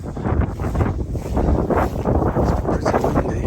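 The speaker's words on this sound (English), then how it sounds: "It's pretty windy." Wind buffets the microphone on open, bleak hills near Chinley and Dove Holes, a steady, loud rumble with gusting roar and no other clear sounds.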